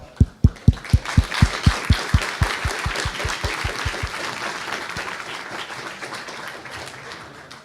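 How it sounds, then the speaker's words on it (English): Applause at a FOSDEM 2014 conference talk, opening with a run of loud, evenly spaced single claps close by that fade into scattered, softer clapping. "a big applause for him"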